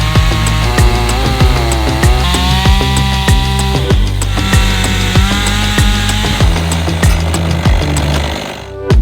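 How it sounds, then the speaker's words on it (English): The bottoms of wooden logs are shaved down to fit concrete post bases, producing a loud, close, whining power-tool roar with shifting harmonic pitch and rhythmic cutting pulses throughout, with no speech. "I simply shave up the bottoms of the logs to fit in the post bases."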